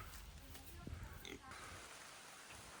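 A pig grunts a few times near a farm in Cuba's Viñales Valley, short low snorts heard close by over a background of ambient outdoor noise.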